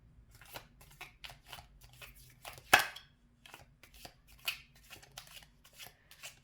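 Tarot cards are shuffled by hand, a quiet run of short papery riffles and slaps arriving in irregular bursts, with one louder snap partway through.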